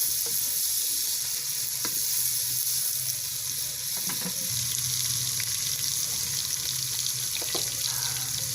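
Garlic and other ingredients for Punjabi-style sarson ka saag frying in a pan, a steady close sizzle with occasional stirring clicks and scrapes throughout.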